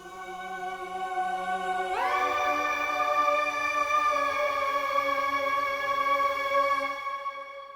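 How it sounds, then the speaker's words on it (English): After a soft low intro, a lush sustained choir-like synth pad swells in and holds with a reverberant wash before fading out. "I add a voice choir, and with some reverb it sounds like this"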